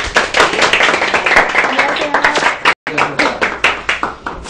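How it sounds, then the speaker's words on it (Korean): A live Korean audience at a stock-trading lecture claps warmly to welcome an expert speaker onto the stage. Dense, close hand claps run throughout while a man briefly greets the room. "큰 박수로 맞이해 주십시오"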